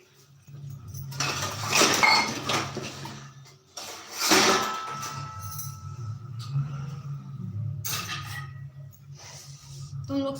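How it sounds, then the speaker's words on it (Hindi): Dirty dishes, pots and pans being washed at home, with repeated clinks and clatters of metal utensils in bursts over a steady low hum, fairly close. "तुम लोग सुबह से सारा बर्तन जूठा कर करके रख देते हो"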